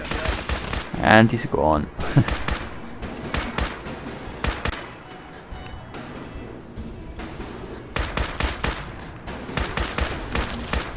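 Pipe weapon gunfire in Fallout 4, sharp shots fired in uneven bursts and clusters over several seconds, with someone talking briefly between them.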